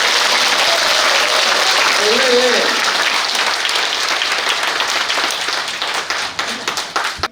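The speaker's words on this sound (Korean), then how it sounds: "수고해주신 나경원 의원님께 다시 한번 큰 박수 부탁드립니다." Loud, sustained applause from party members fills the hall at the close of a People Power Party Gimcheon branch member-education session, steady through most of the clip and breaking into scattered claps at the end, with a voice speaking briefly over it.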